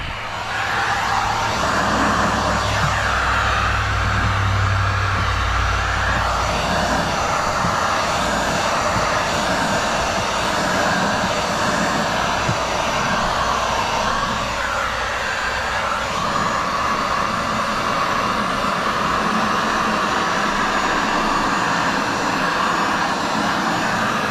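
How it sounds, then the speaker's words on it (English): A heat gun runs during window tinting on the back glass of a 2023 Mitsubishi Eclipse Cross Ralliart, a steady loud blowing whir that holds for the full stretch with no talking. "That's why we left our heat gun on."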